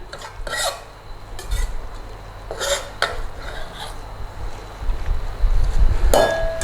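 Chopped onions tipped from a board into a makeshift bowl too small for the job while prepping a beef and banana pepper stir fry, heard as several soft scraping, tumbling bursts with knife or board knocks, close, no talking.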